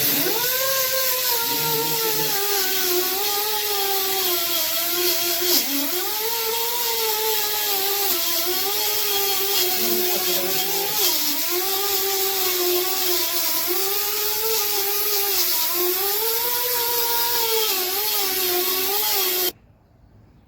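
A power drill fitted with a grinding attachment strips corrosion from the edge of a wheel rim, giving a loud, close, continuous whine that wavers up and down in pitch as the load changes, then cuts off abruptly at the end.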